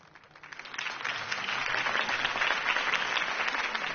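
A crowd in a Batman video game bursts into applause after a campaign speech, the clapping swelling within the first second and then holding as a steady, dense roar.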